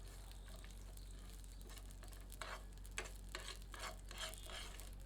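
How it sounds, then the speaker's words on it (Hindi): Eight to ten almonds and a tablespoon of poppy seeds roast lightly in hot oil or ghee in a pan, giving a very faint, soft sizzle with a few quiet scraping stirs. "इसमें 8 से 10 बादाम डालते हैं और 1 टेबलस्पून खसखस सम्मिलित करके हल्का भूनते हैं।"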